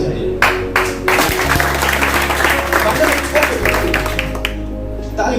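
Audience clapping at a network marketing meeting, a dense steady burst of many hands filling the room, loud and close, with a low electronic hum running beneath and a voice briefly audible.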